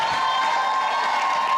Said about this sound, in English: We're applauding your violin playing from last night.